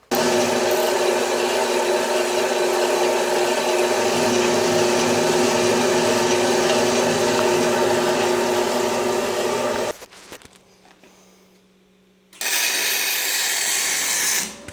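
Angle grinder working a welded steel cultipacker frame, a loud continuous high whine that runs about ten seconds, briefly drops away to near quiet, then starts up again.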